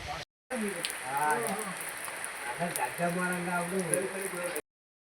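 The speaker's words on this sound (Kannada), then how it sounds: "ಮಳೆ ಜೋರಾಗೋಯ್ತು, ಏನು ಮಾಡೋದು" Steady hiss of heavy rain with someone talking over it, the downpour continuous and close for the whole stretch.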